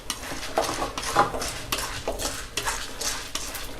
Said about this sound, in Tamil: இதுவரை நம்ம மீடியம் ஃப்ளேமில் வறுத்துட்டு இருந்தோம்